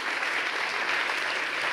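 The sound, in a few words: audience applause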